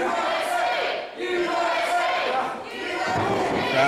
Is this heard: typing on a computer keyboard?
no